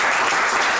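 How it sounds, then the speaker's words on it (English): A crowd applauds steadily at a Bernie Sanders campaign event held in a private home in Carroll, Iowa, with dense, continuous clapping filling the whole moment at a loud, even level. "let's give him a round of applause"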